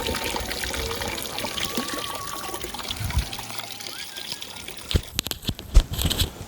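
Water from a homemade gravity water system trickling and splashing into a pool, a continuous dribbling stream with a few louder splashes near the end, close by and without talk.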